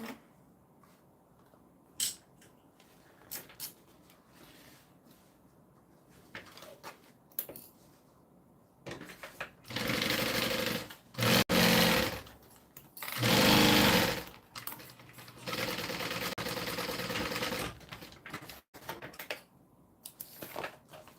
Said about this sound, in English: Clip it in place, and then sew that down.